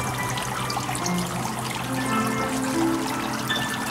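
Water splashes steadily from shower spouts into a silkworm (sutra worm) culture tank packed with sponge and mud, a continuous close trickling pour with no talk.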